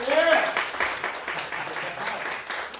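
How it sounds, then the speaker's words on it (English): Audience applause at a college tour soft skills workshop in LA, a moderate patter of clapping with voices and cheering mixed over it throughout. "Give him a round of applause"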